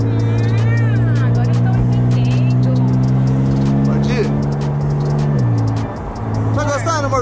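A pink Porsche drives with a loud, close, droning engine that holds a steady pitch, then drops sharply as the car downshifts, while people talk over it.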